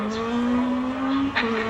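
A Scott Williams Ford Escort Mark II rally car engine, a steady high-pitched drone as it runs down the start-finish straight at a rally day, holding a sustained note with a brief dip near the end.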